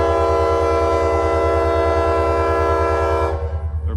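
Near Mount Zion on a two-track rail line, a train rumbles close by with a loud, steady, tonal horn-like drone over deep engine throb that holds for about three seconds before abruptly dropping away.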